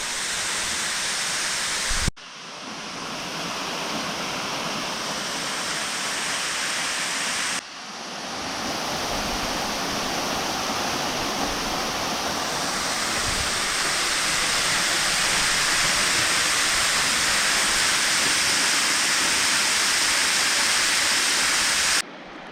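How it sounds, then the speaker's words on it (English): Hobuck Flats waterfall rushes as a steady, loud, broadband roar of falling water heard close up, continuous throughout with brief cuts and no voices. "Here we go, the Hobuck Flats waterfall."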